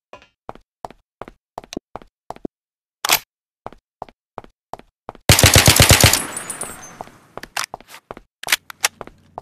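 Video-game AK rifle fire in Garry's Mod: a steady series of sharp single shots, then a dense sustained automatic burst, then more scattered sharp cracks, loud and close.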